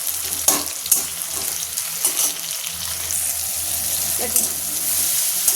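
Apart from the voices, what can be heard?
chopped tomatoes frying and being stirred in pan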